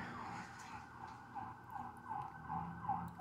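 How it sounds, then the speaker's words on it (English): An ambulance siren in a video game wails in a steady, repeating up-and-down cycle, fairly clear and growing slightly louder as it passes, with no talking. "an ambulance has to drive by"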